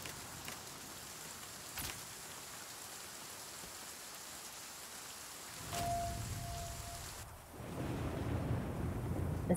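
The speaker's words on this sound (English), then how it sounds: "It's still raining." Steady rain falling in the survival video game The Flame in the Flood, a constant hiss of rainfall with a couple of faint cracks and a deeper rumble building near the end.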